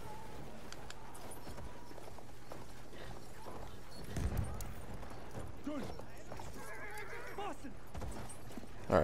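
Horse neighing and hooves clip-clopping in the video game Battlefield 1, faint and buried under constant battlefield noise, with a louder burst midway.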